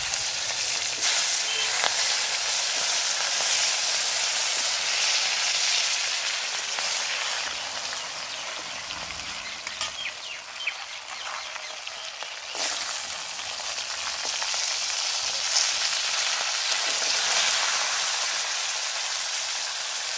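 Crabs frying in a pan, a steady broadband sizzle and hiss running loud and close throughout, with faint clinks and stirring now and then.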